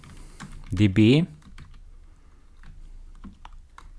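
Someone types code on a computer keyboard, giving soft, scattered key clicks in irregular bursts. Someone speaks briefly near the start of the clip.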